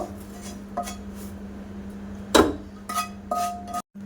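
Sabudana laddu mixture tipped from a pan onto a flat metal plate, with a close metallic scrape and clank of utensils and pan against the plate, a few sharp clinks near the end, no speech.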